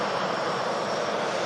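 KLM airliner passing low overhead at fog-bound Manchester Airport, a loud, dense, continuous engine roar filling the moment without talk.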